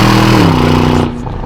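A 2021 Aston Martin DBX SUV engine roars loudly from close by with a dense, buzzing tone that eases off slightly near the end of the brief burst.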